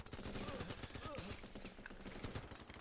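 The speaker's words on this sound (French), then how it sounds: "on est en train de l'attaquer, forcément il y a des coups de feu" Gunfire during a base attack in the Running With Rifles video game, a dense, continuous fusillade of rapid overlapping shots and bursts, loud and sustained with faint voices underneath.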